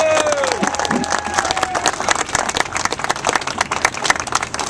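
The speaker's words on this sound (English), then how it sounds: "So give him a big round of applause." A crowd at an outdoor Tea Party rally in Columbus claps and cheers, with dense applause and occasional shouts and whistles building across the moment.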